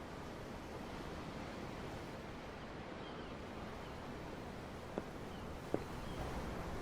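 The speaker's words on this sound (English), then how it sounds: "The ocean? Yeah. The waves." Ocean waves wash steadily in Tales of Arise, a continuous broadband surf roar with wind, heard from aboard a ship, with two faint brief clicks near the end and no talking.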